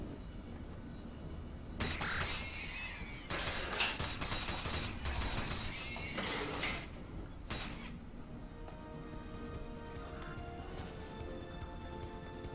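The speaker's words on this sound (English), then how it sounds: "these cameras will start shooting at me as well" Security cameras firing bursts of gunfire in Riddick: Escape from Butcher Bay, several loud volleys over a steady low hum, then quieter machinery sounds with a few fainter shots.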